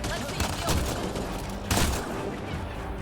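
Gunfire in the video game Mass Effect: Andromeda: rapid bursts of shots in close succession, with two heavier volleys standing out in a dense, loud stretch of combat.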